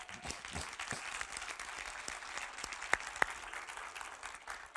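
Church congregation claps for the greeters, moderately faint, scattered applause with a few sharper individual claps standing out amid the crowd.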